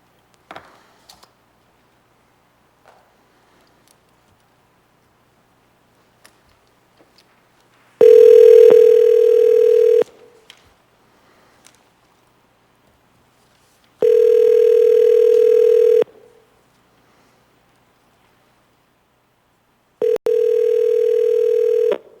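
A telephone call placed from a public assembly meeting gives three loud, steady ringing tones of about two seconds each, separated by long quiet gaps with faint clicks and taps.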